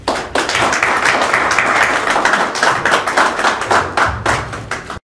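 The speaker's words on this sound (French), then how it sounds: "Donc, sous vos applaudissements, s'il vous plaît, accueillir Madame Gypsy Kadima." Sustained applause from an audience at the official launch of a political party, the RDT, in Manchester, with dense hand claps filling the room loudly for about five seconds before cutting off.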